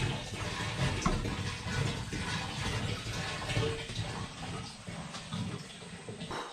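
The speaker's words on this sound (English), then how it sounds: "Filling up. Put some gas in." Gasoline pours into a car's fuel tank in a steady, gurgling liquid rush that holds at an even level for several seconds, close by and continuous.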